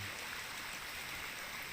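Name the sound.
strong current of gushing stream water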